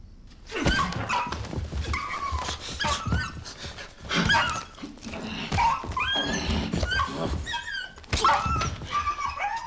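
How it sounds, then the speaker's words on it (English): A dog whimpers and cries in short, strained yelps and whines, repeated over several seconds with panting, close and fairly loud, from an RSPCA Australia public service announcement. "we hear a dog crying instead of a woman"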